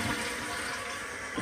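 A running toilet being flushed and refilling, giving a steady, close rush of water that holds at an even level throughout with no voices.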